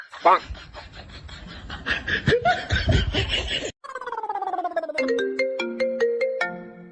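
A mobile phone ringtone rings out in a comedic domestic scene, first under laughter and lively voices, then alone as a clear melodic tone sequence stepping up and down near the microphone.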